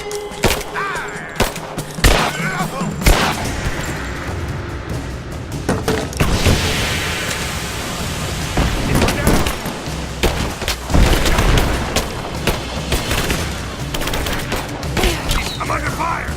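Heavy gunfire in the action game Rise of the Tomb Raider: loud, sustained volleys of shots and booming impacts overlapping for a long stretch, with shouted voices among the firing.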